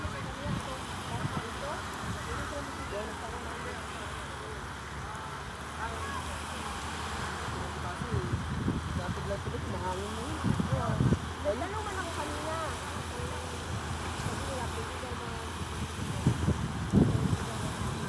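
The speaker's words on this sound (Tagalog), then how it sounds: "Mahangin masyado karon." Strong wind buffets the microphone at a beach resort in Sariaya, Quezon Province, with a steady rushing roar and surf in the background, and a boat nearby. Voices can be heard faintly now and then.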